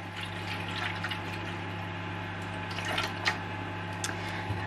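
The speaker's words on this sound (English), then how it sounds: "I need to add some water into the reservoirs to make it nice and warm" Water is poured into the reservoirs of an egg incubator, making soft, faint splashing and trickling over a steady low hum, with a few brief louder splashes near the end.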